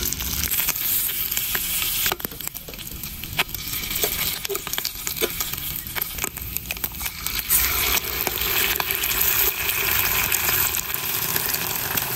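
Food fries in a small pan on a compact backpacking reactor stove outdoors, sizzling loudly and steadily throughout with occasional sharp clicks and spatters.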